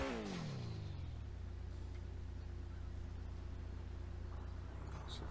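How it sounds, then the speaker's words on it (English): A turbocharged car engine in the game GTA 5 revs, its pitch falling quickly as the throttle drops, then settles into a low idling rumble with a faint hiss, quiet and without talking. "You hear that nice blow off valve in there."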